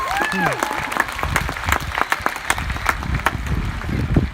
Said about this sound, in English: please give a big round of applause for the lights and the technicians